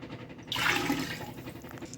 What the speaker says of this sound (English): we almost have our whey drained off to the level of the curd